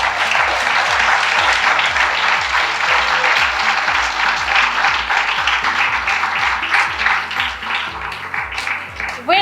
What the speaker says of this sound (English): let's give our first big resounding applause to show gratitude to the